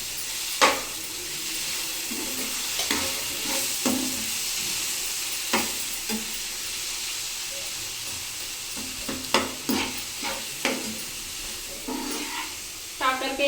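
Bitter gourd fry with chilli powder sizzles in a pan while it is mixed, a steady hiss broken by clicking and scraping spoon strokes against the pan.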